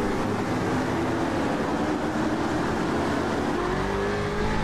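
Race car engines in an iRacing-style sim race at Mid Ohio: a loud, continuous engine drone with rising and shifting pitch as the cars run nose to tail, heard alone with no voices.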